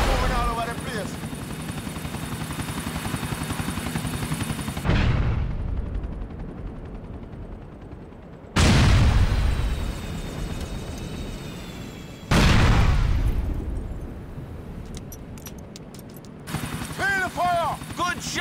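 GTA 4 mission gameplay near a helicopter, with the steady rotor and engine drone cut by sudden loud booms and bursts of gunfire and explosions, several sharp blasts spaced through the clip under a noisy game mix.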